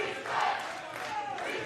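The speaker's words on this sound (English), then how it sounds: "And the crowd here at the Mecca, rightfully excited." Excited crowd at a wrestling event in the Mecca arena, a sustained roar of shouting and cheering voices at moderate distance.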